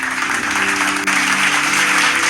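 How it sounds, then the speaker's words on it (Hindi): A crowd breaks into loud, dense applause for newly selected BPSC students at a congratulatory gathering, with close, continuous clapping throughout. "एक बार सबके लिए जोरदार ताली"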